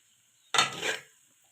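Vegetable kebab mixture stirred and cooked in a pan, a single short scraping, sizzling stir lasting about half a second, close and otherwise quiet.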